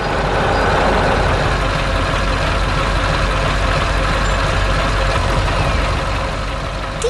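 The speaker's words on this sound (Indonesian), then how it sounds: "Truk berwarna kuning sedang membawa log kayu ke tempat yang sangat cocok." An animated yellow truck hauls logs, heard as a steady broadband engine rumble that stays loud and even throughout, with no talk.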